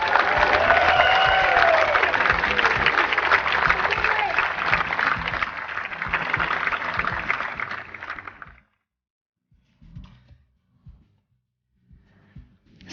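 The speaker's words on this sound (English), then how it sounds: "I know this one's going to get applause with some friends and whānau in the crowd as well" A tennis crowd with friends and family applauds and cheers loudly for New Zealand's women's team players at a Fed Cup tie against the Philippines. The steady clapping lasts about eight seconds, then stops abruptly, leaving a few brief voices.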